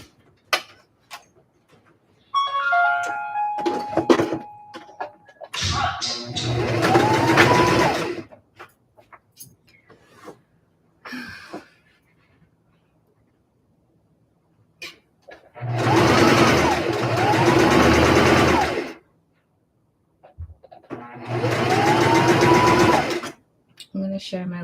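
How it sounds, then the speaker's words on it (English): A sewing machine runs in three bursts while stitching a vest seam, each a few seconds of rapid mechanical whirring separated by pauses, with a person talking in between. "let's sew this back seam"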